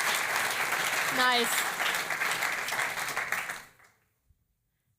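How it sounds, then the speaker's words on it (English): Audience applause at a talk on demographic change, a dense wash of clapping that holds steady and then tapers off and stops abruptly, with a brief spoken remark partway through. "Applause."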